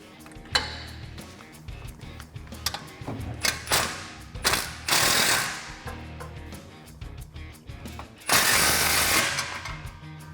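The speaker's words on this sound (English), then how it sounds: "we can tighten this down with our 15mm socket" A 15mm socket ratchet tightening a clamp on a Jeep Gladiator exhaust, giving rapid clicking strokes and clanks in irregular bursts, close by, with a louder rasping stretch near the end.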